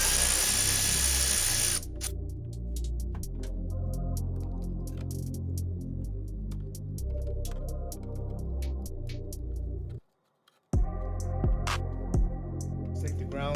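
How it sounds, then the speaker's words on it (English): A power tool whirs in repeated short bursts while removing a bolt from an Audi S6 C7.5 4.0T engine, with clicks and ratcheting between runs, a brief silence, then more tool noise nearby. "So let's take that bolt off."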